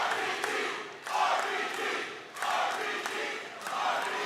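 Wrestling arena crowd cheering during an RVD versus Pentagon Jr match, a big roaring chant that surges in repeated waves, loud and reverberant.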